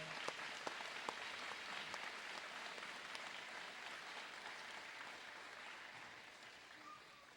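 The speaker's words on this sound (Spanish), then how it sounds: "Dale ese fuerte aplauso al Señor." A church congregation applauds during a Spanish-language Catholic sermon, a steady, fairly faint wash of clapping that holds for the whole stretch and thins slightly toward the end, with no speech over it.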